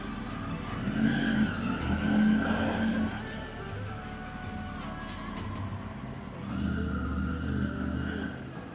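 A Triumph Tiger 900 motorcycle pulls away at dawn on a long road ride, its engine a steady drone that rises twice as it accelerates, heard close under wind noise.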